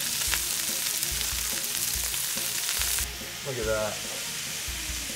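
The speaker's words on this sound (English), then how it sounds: "puts a little bit of olive oil on that hot skillet, and she makes sure that it's super hot because she wants to sear it" Kebabs of duck, dove or perdiz searing in olive oil on a very hot skillet, giving a loud steady sizzle that drops off partway through, with a person briefly speaking over it.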